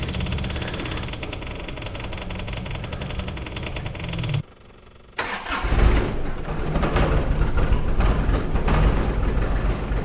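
A John Deere 1025R compact tractor engine cranks, then drops silent for a moment before the diesel catches and runs rough, uneven and loud right up close.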